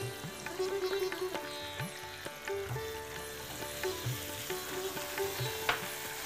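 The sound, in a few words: garlic and onion paste frying in oil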